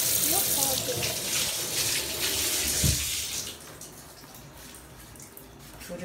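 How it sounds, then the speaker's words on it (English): Tap water running into a sink while hands are washed, a loud steady gush for about three seconds that then cuts back to a quieter trickle, with a voice talking over it. "I just got to wash my hands"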